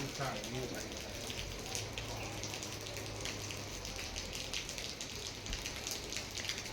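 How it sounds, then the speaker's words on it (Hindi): Continuous rain falling outdoors during a heavy downpour, a steady patter of drops on surfaces with a low background rumble, fairly soft, while a person talks over it. "और अभी भी जो है बारिश हो ही रही है कंटिन्यू, रात से बारिश हो रही है।"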